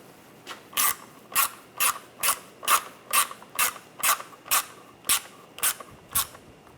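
A hand ratchet tightens a screw on the AC condenser of a 2009-2013 BMW 328i xDrive: about a dozen crisp clicking strokes in an even rhythm, close up and isolated.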